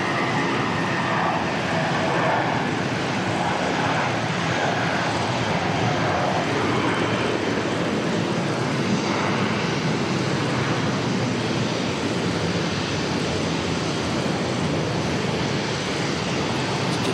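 A jet aircraft roars steadily at Auckland Airport, a broad, loud engine wash that holds for the whole stretch with no voices heard.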